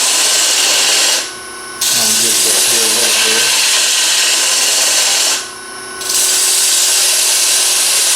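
A round nose scraper cuts wood on a spinning lathe during an inside-out turning job, giving a steady broadband scraping hiss with a continuous motor hum. It stops briefly twice, and a voice speaks during the first pause.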